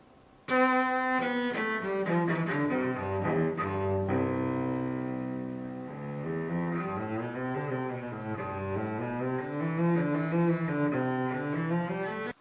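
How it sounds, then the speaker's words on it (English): A solo cello played with a bow, a large instrument resting on a floor peg: warm sustained low notes and a flowing melody with smooth slides, moderately loud and close, with no voices. "Okay, that is the cello."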